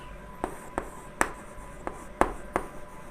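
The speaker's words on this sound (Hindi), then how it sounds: "अब यहाँ से लिखेंगे" Marker or chalk writing on a board, heard as a series of short, distinct taps and strokes spaced irregularly, close and clear against a quiet room.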